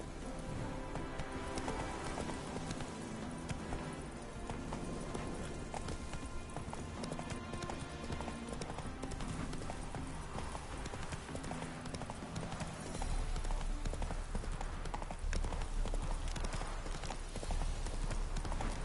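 Hooves of Roach, a horse in The Witcher 3, clip-clopping in a steady galloping rhythm throughout, loud and close over continuous game ambience.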